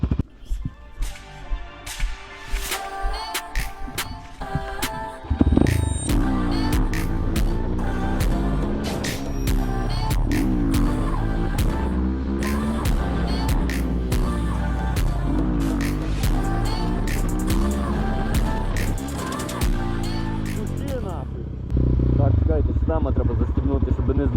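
A Kovi Advance stunt motorcycle engine warms up, starting with uneven pops and then settling into a loud, steady, close idle with occasional revs, while someone talks nearby.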